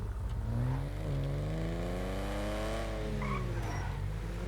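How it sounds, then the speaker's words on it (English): Dewbauchee JB700, a classic British sports car in GTA V, revs hard and loud as the engine is opened up, its pitch climbing, holding and then easing back, with a brief tyre squeal near the end. "it just sounds so nice when you really open this car up"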